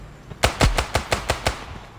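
Rapid burst of video game gunfire fired while running, about six sharp evenly spaced shots in quick succession, loud and close with no talk over it.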